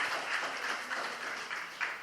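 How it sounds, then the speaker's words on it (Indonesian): Applause from guests at a Christian holy matrimony wedding ceremony, steady dense clapping throughout with small surges, moderately near and fairly quiet, no talk over it. "Aplaus."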